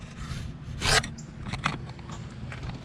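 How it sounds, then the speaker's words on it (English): A fish tape is pushed up behind the bumper bracket of a 2019 Chevrolet Equinox, giving close scraping and rasping rubs with one louder grinding scrape in the middle and a few shorter scuffs; no talk. "I run a fish tape up here, back behind the bumper bracket."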